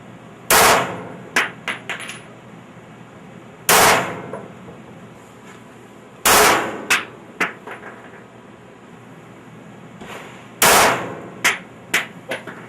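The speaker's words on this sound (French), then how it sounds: "Là, j'ai tiré mon dernier coup." Rifle shots ring out at an outdoor shooting range in four loud, close single reports spaced a few seconds apart, each followed by sharp metallic clanks and echoing tails, with no voices.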